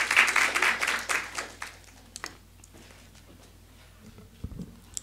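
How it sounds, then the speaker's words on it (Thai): An audience claps to welcome a speaker at a Thai education event, with dense applause at first that thins into scattered claps and fades to near silence, ending with a couple of close handling knocks. "ขอเสียงปรบมือต้อนรับท่านด้วยค่ะ"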